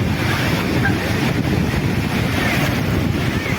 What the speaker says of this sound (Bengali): এই যে বড় ঢেউটা আসলো